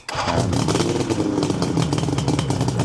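A 1974 Suzuki GT750 motorcycle engine fires up on the electric starter with no choke, catching almost instantly into a loud, busy, clattering run that stays steady for a few seconds.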